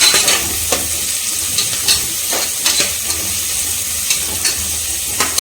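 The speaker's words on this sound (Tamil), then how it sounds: "ஆனியன் சேர்த்துக்கலாம். ஆனியன் வந்து வதக்கட்டும்." Onions sauté in hot oil for mutton biryani, giving a steady close sizzle broken by occasional soft scrapes from stirring.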